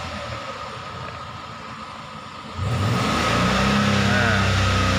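A car engine idles, then the throttle is pressed and it revs up to a louder, sustained roar that holds steady during a diagnostic scan check, heard close and continuous.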